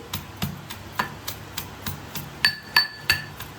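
A pestle thumps steadily in a mortar pounding spices for tomato rasam, about a dozen evenly spaced knocks, a few ringing with a sharper clink near the end.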